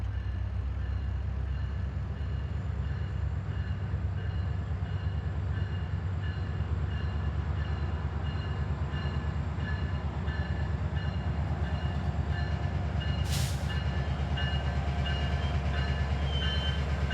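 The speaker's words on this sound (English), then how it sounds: "MARC Train 879 is about to arrive." A MARC commuter train rumbles steadily on the CSX Metropolitan Subdivision in Maryland, a continuous low rolling drone of railcars on track with one short sharp squeal or burst near the end, heard alone without voices.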